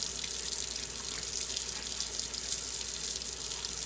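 Tap water runs steadily into a sink while a cloth face mask is rinsed under it, a continuous close hiss and splash with no talking.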